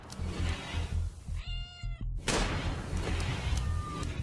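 A single cat meow from the Rimworld video game rises clearly mid-clip, set over a steady low rumble of game background sound.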